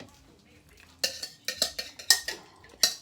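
Apple cinnamon scone dough mixed by hand in a bowl: a series of sharp clinks and scrapes against the bowl in an uneven rhythm, close and fairly loud over a quiet background.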